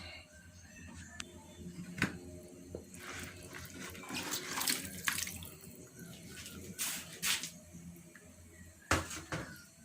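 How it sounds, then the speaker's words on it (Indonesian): Chicken meat is poured into a pot of water on the stove, making splashing, running-water sounds with irregular louder splashes and a few knocks, close by. "Itu udah isi air, kita tuang daging ayamnya bos."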